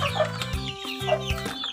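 Chicks being given feed chirp and peep close by in a short burst of overlapping high calls, some descending and some steady, with no talking.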